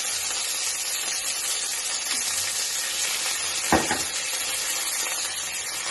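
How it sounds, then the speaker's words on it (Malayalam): Mustard seeds and curry leaves sizzle steadily in hot oil for a Kerala chembu upperi stir-fry, a close, constant frying hiss with a brief louder crackle partway through. "ഓയിലൊഴിച്ച് കടുക് പൊട്ടിച്ച് കുറച്ച് കറിവേപ്പില ഇട്ട്"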